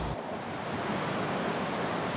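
Floodwater in Giles County rushing through a campground during a destructive flood, a steady, dense roar of churning water with no breaks, loud and close throughout with no voices.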